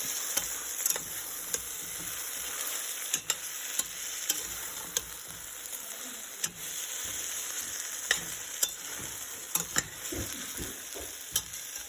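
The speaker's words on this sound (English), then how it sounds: "So I am going to add all the chopped mushroom." Chopped mushrooms and fresh mint frying for mushroom biryani, a steady hiss of sizzling with scattered sharp clicks and pops of spatter.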